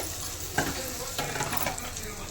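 Onions and tomato sauté in a pan, a continuous close sizzle of frying with occasional scraping stirs of a spoon across the pan surface, fairly loud and steady over the short stretch.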